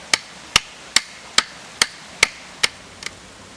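Chopping notches into thick tripod logs for a raised-bed A-frame jungle shelter: eight sharp, evenly spaced blade strikes about every half second, close and loud, the last one weaker.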